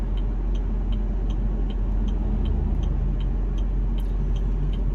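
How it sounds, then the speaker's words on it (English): A car idles close by in stopped traffic, a steady low engine rumble holding level and unbroken throughout with no voices. "This car has stopped right in front of me, and I'm so close up on this one."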